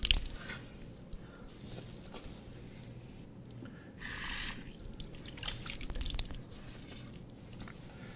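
Water scooped and splashed onto the face during Islamic ablution (wudu): repeated wet splashes, drips and rubbing in several bursts, close and moderately loud, with no speech.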